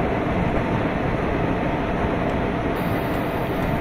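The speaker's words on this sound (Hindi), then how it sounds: "ट्रेन आ रही है भाई" A WAG 7 locomotive hauling ICF coaches on the Kerala valley route in a train simulator game rumbles steadily, a loud, continuous low roar with no talk over it.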